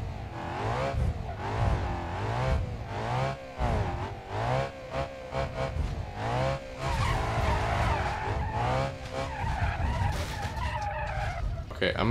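A car in a driving video game accelerating flat out with repeated tire skids and squeals, engine revving loud and close throughout, with someone talking over it.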